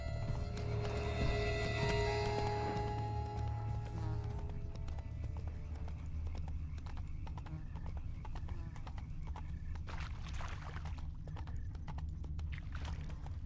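Horse hooves clip-clop in The Witcher 3 while a horse whinnies, with steady rhythmic footfalls under the game's ambient sound.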